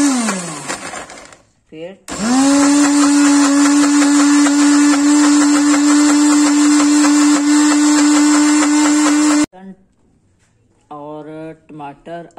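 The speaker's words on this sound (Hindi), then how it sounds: "इसी में हम ग्राइंड करेंगे इसको" A mixer grinder whirs loudly at a steady high pitch while grinding tomato, ginger and green chillies without water for green chutney, with a short pulse before the long run and a voice speaking at either end.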